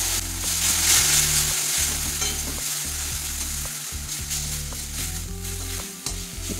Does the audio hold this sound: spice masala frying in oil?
yes